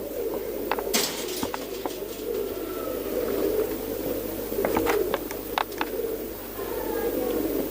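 Nearby palle-wali breed pigeons keep up a low, rolling coo while scattered sharp clicks and light clatters come and go over it.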